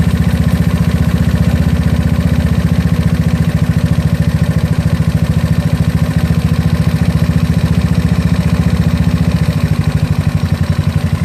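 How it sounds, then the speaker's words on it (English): A GY6 scooter engine fitted with an OKO PWK 30mm carburetor idles loud and close in a steady, fast, even putter that holds unchanged throughout, with no talking. "We're going to idle it back down, that's our goal."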